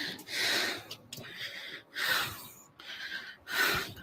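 A person breathes heavily in loud, rhythmic gasping bursts, four strong breaths about a second apart with short pauses between, close up and with no talk.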